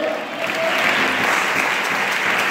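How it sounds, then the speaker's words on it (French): A church congregation bursts into sustained applause for the Lord, dense clapping from many hands filling the room for a few seconds, with no speech over it. "Est-ce que vous pouvez acclamer le Seigneur?"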